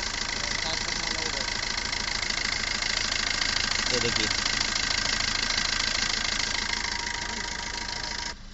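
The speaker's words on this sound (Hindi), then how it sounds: "देखो तो अपना कार स्टार्ट हो गया।" A Maruti Suzuki Ertiga engine idles steadily just after starting, following a relay fault, a close, continuous mechanical hum with a slight knock that runs the whole time under a few spoken words.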